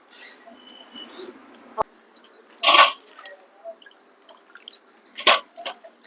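Spiny gourds are washed in water, giving sparse, close splashes, drips and brief sloshing bursts separated by quiet gaps.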